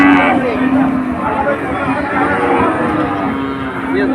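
Cattle low repeatedly at a busy livestock market in Betaga, with several long moos rising over a steady crowd murmur, loud and near.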